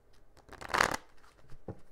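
A quick riffle of tarot cards being shuffled, a soft papery flutter rising to a brief burst, then a small tap; quiet and close.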